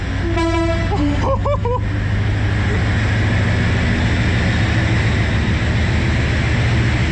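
A vehicle horn toots several times in quick succession, loud and close, the blasts bunched in the first two seconds, followed by steady road and engine rumble with some talk.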